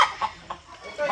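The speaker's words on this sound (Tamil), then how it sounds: "இந்த கோழி ஏன் கத்திக்கிட்டே இருக்குது?" A native hen squawks and clucks insistently before laying an egg, several short sharp calls spaced across a second, close by and fairly loud over quiet surroundings.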